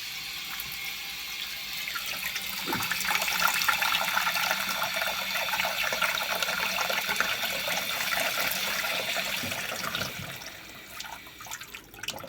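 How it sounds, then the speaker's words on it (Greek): Tap water runs steadily into a pot of boiled eggs to cover them, a close, continuous splashing pour that tapers off near the end, with no talking. "προσθέτουμε νεράκι έως ότου να καλυφθούν πλήρως τα αυγά μας"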